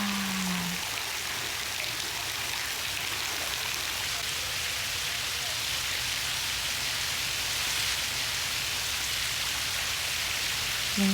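Rain falls steadily on Gyeongbokgung palace in Seoul on a rainy day, a soft, even patter heard close and alone, with faint brief tones at the start and end.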